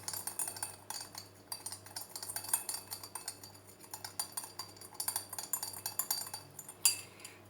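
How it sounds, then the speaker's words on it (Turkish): A teaspoon of baking soda stirred into a drink, a spoon clinking and scraping against the glass in quick irregular bursts, close up and alone, growing busier toward the end. "Bir çay kaşığı karbonatımızı, kabartma tozumuzu attık. Bunu güzelce karıştıralım."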